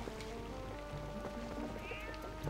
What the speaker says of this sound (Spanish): Vamos, gato, entra, ¿no?